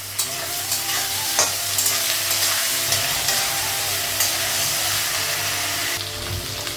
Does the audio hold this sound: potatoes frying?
yes